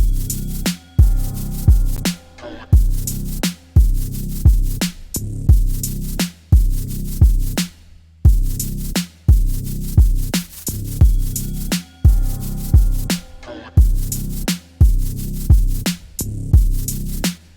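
A deep, distorted 808-type saturated sine wave synth bass plays repeated notes in a steady rhythm, each hit thick and buzzy with short gaps between, loud and alone.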